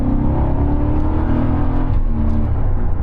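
A 1997 Mercedes E60 Renntech sleeper sedan, 420 hp, accelerates with a loud, steady engine drone and whir heard from inside the car, sustained throughout without talk.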